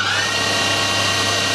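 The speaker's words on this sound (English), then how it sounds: "I'm going to use my drill to drive the cross slide" An electric hand drill drives the cross slide of a metal lathe running at full speed, giving a steady, loud, continuous motor whine with no pauses.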